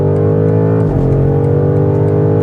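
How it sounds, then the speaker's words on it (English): A 2025 BMW M5 G90 accelerates at full throttle on a night drive, a loud, steady engine drone with a brief dip in pitch near the one-second mark before the tone climbs again. "We're now ready to floor everything out of the M5 G90 for a little bit here. So let's just go full throttle."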